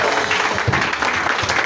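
A church congregation applauds during prayer, with dense, fairly loud clapping that surges in uneven waves for a couple of seconds, and no clear speech.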